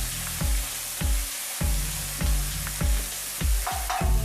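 Onions sizzle steadily in hot oil, with garlic added, while a utensil scrapes the pan in regular stirring strokes, loud and close up.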